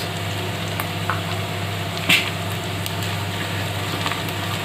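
A steady sizzle of turmeric and cumin powder frying in a hot pan, even and continuous, with a couple of small clicks from a utensil.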